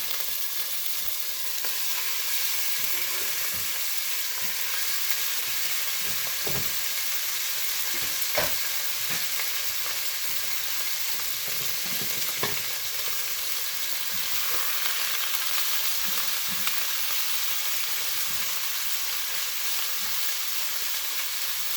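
Beef sizzles and fries steadily in a pot over medium-high heat for mushroom barley soup, a continuous hiss broken by occasional crackles and stirring clanks, with no talking.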